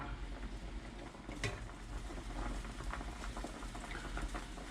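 Beef soup with crushed garlic and onion simmers in a pot, a steady low bubbling and soft patter of boiling liquid that runs continuously at moderate distance, with one brief sharper knock partway through.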